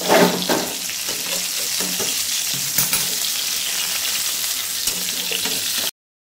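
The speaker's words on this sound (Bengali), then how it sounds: "সুন্দর করে একদম ভেজে নিচ্ছি ভালো মতন।" Pointed gourd (potol) pieces fry in a pan with stirring, a loud, close, steady sizzle with occasional scraping that runs for about six seconds and then cuts off abruptly, no voices.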